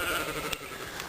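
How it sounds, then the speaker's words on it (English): Sheep on a small farm bleating loudly for food, one clear call close by with a second shorter bleat near the end, no talking. "I'm going to walk away from the sheep so they don't see me anymore and they'll stop hollering for food."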